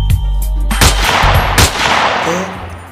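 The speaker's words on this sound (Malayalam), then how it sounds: "അവിടെ നിന്നല്ലേ ഒരുത്തൻ വെടി വെക്കണേ?" Gunfire in the video game GTA: several sharp, loud shots in quick succession over a dense, noisy game soundscape with a tonal music bed at the start, then fading into softer background noise.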